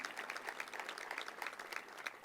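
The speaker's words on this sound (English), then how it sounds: "how about another round of applause for the Oakland Interfaith Gospel Choir?" Audience applause for the Oakland Interfaith Gospel Choir at the Chase Center arena ribbon cutting, a steady, fairly quiet patter of many hands clapping for a couple of seconds with no voices over it.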